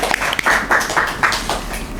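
A small audience claps at an Indonesian organisation talk event, a short burst of close, fairly loud hand claps with uneven rhythm.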